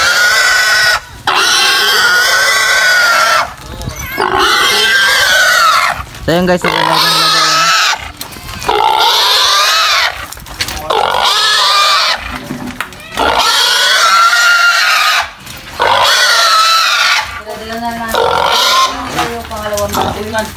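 A pig grunting and squealing in short bursts between stretches of people talking loudly nearby, the animal calls close and rough.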